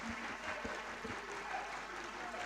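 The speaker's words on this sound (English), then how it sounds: "let me invite all of us in the National Assembly to applaud the remarks of the Right Honorable Speaker" Applause in the National Assembly for the Speaker's remarks, a faint, brief patter of many hands clapping in a large chamber, continuous through the short moment.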